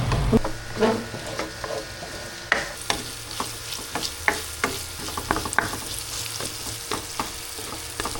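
Pork for Bicol Express fries in its own abundant rendered fat, a steady close sizzle broken by repeated scraping stirs and clinks of a utensil in the pan, with no talking.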